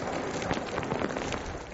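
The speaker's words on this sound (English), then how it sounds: "winds in excess of 100 kilometres an hour lashed the city, and Darwin rain records were smashed" Heavy rain and wind from Tropical Cyclone Carlos lashing Darwin, a dense, loud, continuous hiss of rain pounding surfaces with gusty noise and no voices.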